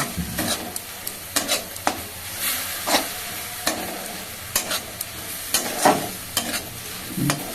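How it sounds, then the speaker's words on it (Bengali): Bottle gourd frying in ghee, sizzling steadily and close, with repeated scraping stirs of a spatula through the pan at an irregular rhythm, no voices. "ভালো করে ভেজে নেবে লাউয়ের গন্ধটা চলে যাবে এটা কাঁচা গন্ধ থাকে না লাউ সেই গন্ধটা চলে যাবে ঘিয়ে ভাজা"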